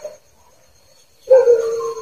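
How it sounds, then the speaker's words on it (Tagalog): A dog gives a short yelp, followed after a pause by a longer whining bark, close and fairly loud, heard at night near a cemetery. "Parang ingay ng mga aso."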